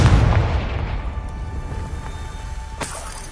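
A Confringo spell explosion in the Hogwarts Legacy video game, a heavy deep boom at the start that rumbles and fades over a few seconds, with a faint sharp crack near the end.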